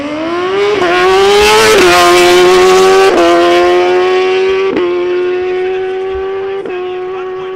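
A BMW RR motorcycle launches at a drag race and revs hard and loud through several rapid gear changes, each shift marked by a brief dip before the pitch climbs again.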